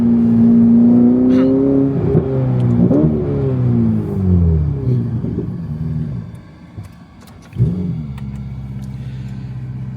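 Ferrari F8 Tributo engine revving close by, a loud rising and falling roar that fades, then a sharp blip followed by a steady idle rumble.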